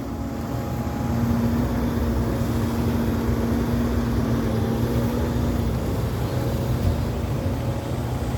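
Sumitomo SH130-6 excavator with K7V pump running quietly at a worksite, a steady low diesel drone with a faint tonal hum, constant and moderately near with no talk.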